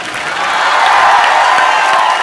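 Studio audience applauding loudly and steadily throughout at a live Indian comedy show, a dense wash of clapping with faint crowd noise.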